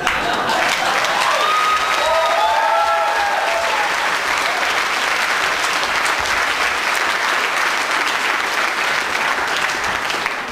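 An audience breaks into loud, continuous applause, a dense steady roar of clapping throughout, with a few voices calling out briefly early on.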